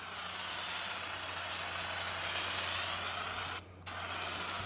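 Rust-Oleum Turbo Can bed liner sprays from an aerosol can onto a shop truck bed, a continuous close hiss that cuts out briefly near the end before resuming, with no voices.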